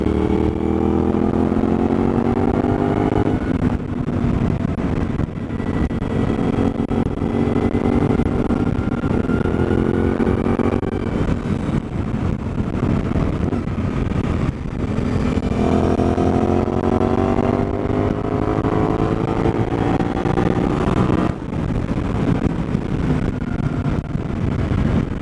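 Suzuki DL-800 motorcycle fitted with an aftermarket muffler, heard on a ride with a steady, loud engine drone that rises as it accelerates, eases back, then climbs again through the gears, with wind rush throughout and no talking.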